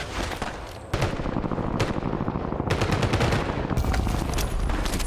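Rapid automatic gunfire in Call of Duty Warzone, dense overlapping bursts from several weapons rattling continuously and loudly for several seconds during a tournament match fight.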